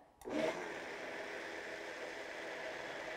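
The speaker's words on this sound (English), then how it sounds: "all you're going to do is blend this together" A blender starts with a sudden whir and settles into a steady, loud hum, mixing crepe batter with vanilla and orange liqueur.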